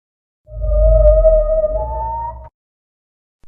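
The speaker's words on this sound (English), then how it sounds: "A whale." A whale gives a single long, loud, tonal moan lasting about two seconds, a steady sustained call with deep rumbling undertones that stops abruptly.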